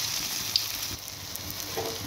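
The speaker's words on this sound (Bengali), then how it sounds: "দেখুন, ভাজা হচ্ছে, এগুলো তুলছি" Paneer balls frying a few at a time in white oil in a kadai, a soft, steady sizzling hiss that is faint and close, with no talk over it.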